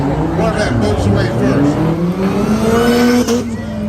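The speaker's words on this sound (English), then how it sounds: "Corvette moves away" A Corvette race car with a sideways-mounted engine accelerates away, its engine note climbing steadily and loud over a busy track background, with a commentator talking throughout.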